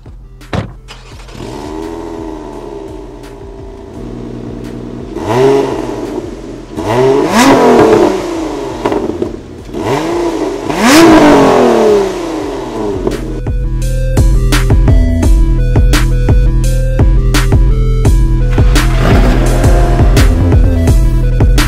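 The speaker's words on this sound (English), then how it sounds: "I want you guys to hear how this thing sounds." A Lotus Emira sports car drives and revs, with several sharp rising engine sweeps, loud and close, followed by a steady, heavy drone of engine and road noise, with no talking.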